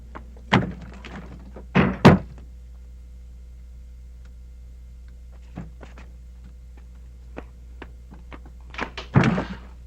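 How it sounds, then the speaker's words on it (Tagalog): An interior door swings shut with a solid thunk and a couple of knocks and bumps, preceded by scattered taps and movement over a low steady hum, with another cluster of thuds near the end. "Pakisarado na lang ho yung pinto"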